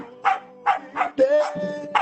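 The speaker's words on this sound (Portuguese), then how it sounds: "O cachorro tá louvando junto." A dog barks and yelps five or six times in a steady rhythm during a church worship service, close and fairly loud, alongside a human voice.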